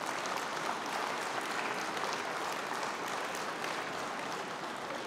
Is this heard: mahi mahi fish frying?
no